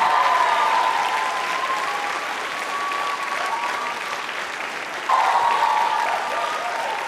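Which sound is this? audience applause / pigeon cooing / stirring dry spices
audience applause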